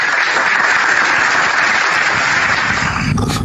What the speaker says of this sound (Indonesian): Tepuk tangan untuk Al-Quran.